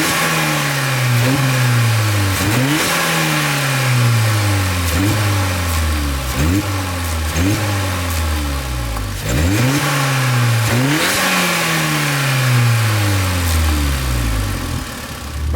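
Stage 3 VW Golf GTI with a new intake, its turbo engine revving repeatedly in loud, close bursts, each rev climbing and falling back toward idle in a regular rhythm, with no talking.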